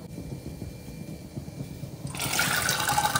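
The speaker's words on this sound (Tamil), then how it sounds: "இந்த கடலை முங்குற அளவுக்கு தண்ணி ஊற்றிக்கலாம்" Water is poured over soaked black chickpeas in a pressure cooker, a rushing, splashing pour that starts partway through after a low background hum.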